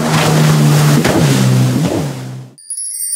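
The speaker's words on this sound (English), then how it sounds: "Jet ski." A jet ski races close by, its engine whining and shifting pitch as it revs and skims over water with a spray of wash, then cuts out and a short chime rings.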